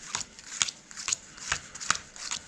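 Playing cards are shuffled up close in several quick bursts, with papery riffling and soft flicks at an uneven pace.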